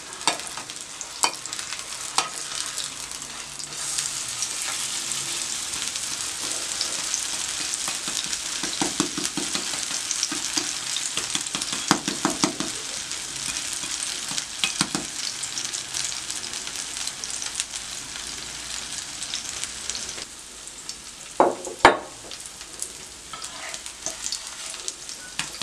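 An eggless vegetarian omelette frying in a pan, with a steady close sizzle and occasional clatters and scrapes as it is turned.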